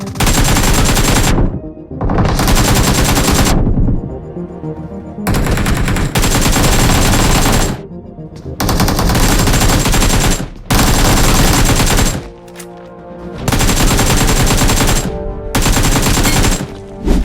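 AKM rifle gunfire in the PUBG Mobile video game: loud, close bursts of rapid automatic fire, several long strings of shots separated by brief pauses.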